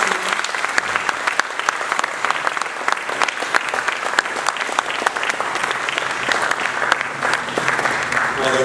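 Sustained applause from an audience at a school prizegiving assembly, a steady, dense wash of many hands clapping that fills the hall for several seconds without pause.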